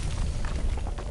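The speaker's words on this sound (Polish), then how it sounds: "To wybucha." A rumbling, booming explosion in the horror game Penumbra fills the short moment, dense low-end roar with crackling debris layered on top, continuous and loud.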